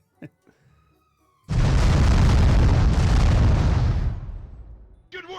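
A cannon blast in the GameCube game Casper: Spirit Dimensions: one sudden loud boom with a broad roaring rumble that holds for about two and a half seconds, then fades, with a brief voice at the very end.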